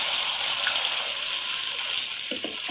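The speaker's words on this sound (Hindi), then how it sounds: "अब मैं इसमें फिर आधा कप पानी का ऐड करूंगी" Masala for fish gravy sizzles and hisses loudly in the pan after half a cup of water is poured in, a steady close frying crackle with a few faint clinks near the end.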